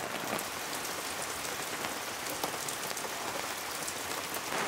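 Heavy rain pours steadily at a lakeside campsite in Gunma, a dense, even hiss of drops pattering on surfaces close by, with no voices.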